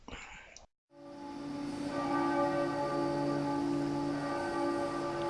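A church bell at La Rochelle cathedral rings out after a brief pause, its sustained tone ringing loud and rich with long overlapping resonance.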